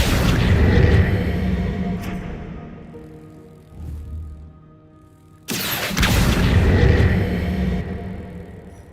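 Confringo blasting spell going off in the Hogwarts Legacy video game: a loud, broad explosive burst that decays slowly into rumble, then a second heavy blast erupts a few seconds later.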